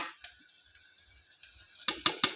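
Onion with garlic and coconut paste fries in a pan, giving a steady soft sizzle that breaks into several sharper crackles and pops near the end, close and with no talking.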